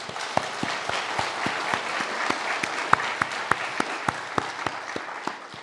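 A church congregation applauds returning homecoming members, the clapping coming in sharp, evenly spaced claps that hold a steady rhythm over a soft wash of background noise throughout.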